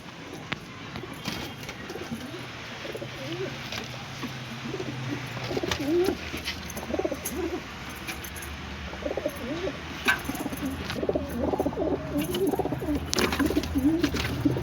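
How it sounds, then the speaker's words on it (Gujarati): A flock of pigeons coos repeatedly in soft, overlapping throaty rolls, nearby and fairly loud, with some wing flutters and light background noise. "જોઈ લો, બધા કબૂતર મસ્તી કરવા માંડ્યા."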